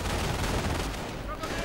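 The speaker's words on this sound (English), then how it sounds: "They're coming under fire from the MG with veterancy 1, by the way." MG-42 machine gun firing in a real-time strategy game, a dense, loud, rapid burst of close gunfire lasting under two seconds, with talk nearly masked underneath.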